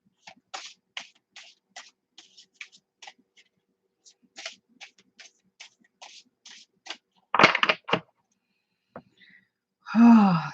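Art of Life cards being shuffled and handled close by: a run of short, soft papery flicks, then a denser rustling burst and a brief louder sound at the end.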